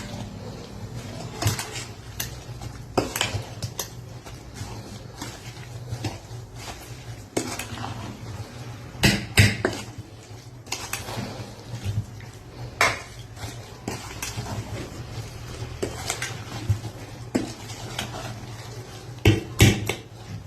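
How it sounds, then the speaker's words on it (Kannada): Spoon scraping and clinking against a bowl while batter with asafoetida is stirred by hand, an irregular run of near, clattering knocks and scrapes with no voice. "ಇದನ್ನೀಗ ಚೆನ್ನಾಗಿ ಕಲಸಿಟ್ಕೋಬೇಕಿದ್ದು"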